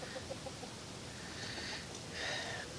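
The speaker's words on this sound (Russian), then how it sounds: "На фоне петухов." Roosters and hens cluck in a farmyard, a faint scatter of short clucks with a couple of higher crowing calls, quiet and somewhat distant over background noise.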